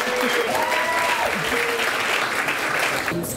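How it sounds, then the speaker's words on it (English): Steady applause from an audience fills a charity event hall, sustained and fairly close, with a few voices murmuring faintly beneath the clapping. "please give them another round of applause"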